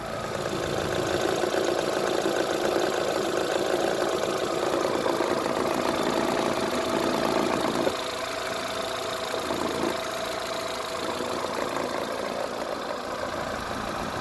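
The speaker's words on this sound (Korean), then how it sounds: "이 차의 엔진 소리를 들어보고" A Kia Morning car engine idles steadily with a dense, even mechanical hum and faint ticking, close by and continuous without revving.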